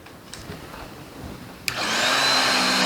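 A Bissell Pet Hair Eraser Turbo Plus vacuum cleaner starts up on a rug with a sharp click, then runs as a loud, steady motor whine with a high tonal hum after a quiet stretch of faint shuffling.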